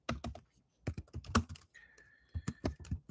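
Light typing on a computer keyboard: quick bursts of soft clicking keystrokes with short gaps, close and quiet, with a faint tonal hum in the middle.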